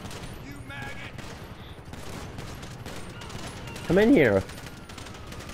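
Rapid gunfire crackles in a GTA V Online shootout, dense bursts of shots running under a player's voice, with a louder, sharper blast late in the moment.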